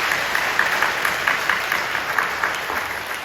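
Applause from a church congregation at a worship service, a full and steady wash of clapping at moderate loudness that continues throughout with no voices over it.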